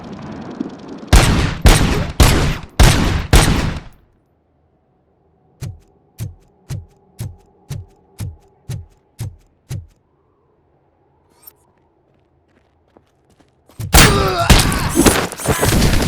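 Gunfire in RoboCop: Rogue City: a rapid, loud burst of heavy shots, then eight evenly spaced single shots ringing out one after another, a near-silent gap, and another loud burst of fire at the end.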